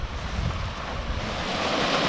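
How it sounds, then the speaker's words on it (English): Small waterfall tumbling down a rocky gorge in an Australian bush creek, a steady close rush of falling water that swells slightly louder toward the end, with no talking. "there's a mini waterfall here."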